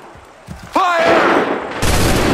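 A volley of musket gunfire in Assassin's Creed 3, a loud sudden crack bursting out after a shouted command, followed by a sustained rushing roar as a second wave of noise swells up.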